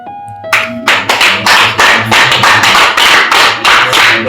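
A group of people applauding at a family gathering, loud and close, clapping in rhythmic bursts that swell and dip repeatedly.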